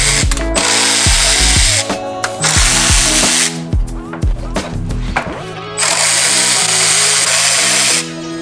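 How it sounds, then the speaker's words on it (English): A power drill runs in several short bursts, then longer whirring stretches, backing out the side screws of an aftermarket head unit in a 2012-2014 Toyota Camry. The motor whines loud and close, with quiet gaps and small clicks between runs. "we need to remove the screws on the side of the unit"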